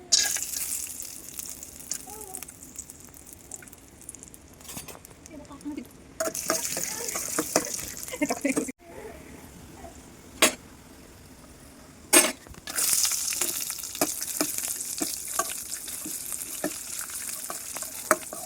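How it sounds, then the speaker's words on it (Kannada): Dry fruits frying in a couple of spoons of hot ghee in a kadai, a steady close sizzle broken by occasional stirring clinks and a few louder hissing bursts. "ಸ್ವಲ್ಪ ತುಪ್ಪ ಬಿಸಿ ಆದಮೇಲೆ ಅದಕ್ಕೆ ಡ್ರೈ ಫ್ರೂಟ್ಸ್ ಹಾಕೊಳ್ಳಿ."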